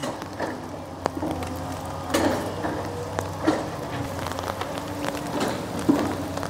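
Rain comes down at an excavator work site along a low riverbank levee, a soft continuous patter with scattered drops and a low machine drone underneath, fairly quiet and without voices.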